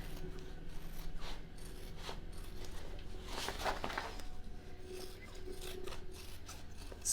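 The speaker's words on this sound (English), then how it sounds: "So I don't trim the top strap." Scissors cut through fabric while trimming a sewn tote bag, giving a steady close rasping, snipping texture that runs through the whole stretch with a denser burst of cuts midway.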